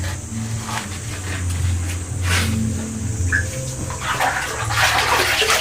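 Water scooped and splashed by hand in a spring-fed pool inside a rock cave on a hilltop, a steady wet sloshing with brief splashes, close and moderately loud, with no talk over it.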